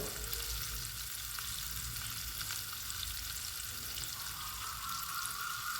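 Ginger and green chillies sauté in oil in a pan for fish moly, giving a steady, close hiss and sizzle with light stirring throughout and no voices.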